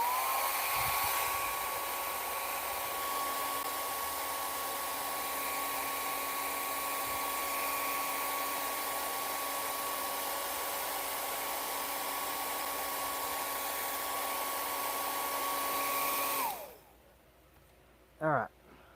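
A dryer blowing steadily on freshly applied tub repair coating material, a loud continuous whine and rush of air that cuts off near the end, followed by quiet and a short thump.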